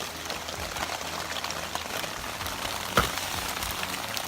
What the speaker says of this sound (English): Okay, it's starting to rain again.